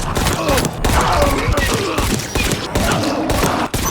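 Rapid gunfire from a gun in the Dying Light video game, dense overlapping shots and impacts in a loud, continuous barrage with brief gaps.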